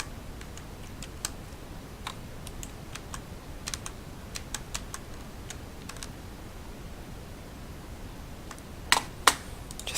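Computer keyboard keys and mouse buttons clicking at a desk during a digital drawing session in Open Canvas software: sparse, light taps scattered throughout over a faint hiss, with a couple of sharper, louder clicks near the end.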